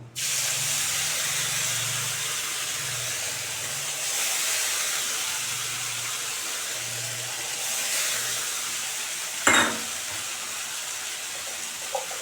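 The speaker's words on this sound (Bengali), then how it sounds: "ওই তেলটার ভিতরে আমি ডাল দিয়ে দেবো" Moong dal frying in hot oil left over from frying diced vegetables gives a continuous broadband sizzling hiss, steady and close, with a sharp clatter near the end.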